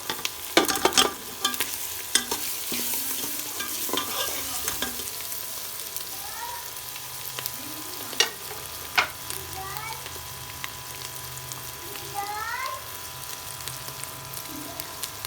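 Spices frying in oil with ginger-garlic paste in a pan for lobiya qeema, a soft steady sizzle under intermittent scraping strokes of a spoon stirring, close by, with a few faint squeaks and no talking.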